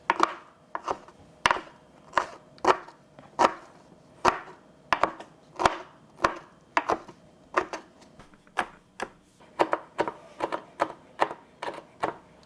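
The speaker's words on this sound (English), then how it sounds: "Now I'm going to chop up the woody mushroom." Hydrated woody mushroom chopped with a knife on a board, a long run of sharp, close knocks in a quick, slightly uneven rhythm, often in pairs, with no voices.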